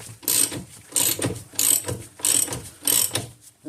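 Ratchet spinning a nut onto a Jeep Grand Cherokee ball joint, five quick clicking bursts in an even rhythm, close and crisp with no talk.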